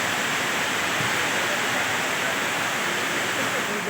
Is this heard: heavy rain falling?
yes